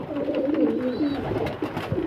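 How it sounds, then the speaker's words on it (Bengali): Pigeons coo in low, throaty, rolling phrases close by as they are fed at night, with soft rustling and a faint background hum. "এবারে ডিমের ঘরের পায়রাগুলো খেতে দেবো"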